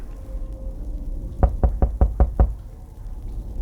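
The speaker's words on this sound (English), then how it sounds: "there was this typical knock at the door, headphone sound, troll sound" In a Resident Evil-style horror game set in a haunted metro station, six sharp, evenly spaced knocks strike a door, loud and close against a low rumbling ambience.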